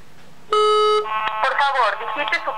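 Telephone line calling a Paradox PCS250 alarm panel: a loud electronic ring tone for about half a second, then a brief click and a synthesized voice prompt following close behind.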